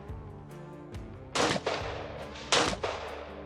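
A firearm fires two sharp, loud gunshots about a second apart, each followed by a brief echoing tail, against a low, steady background hum.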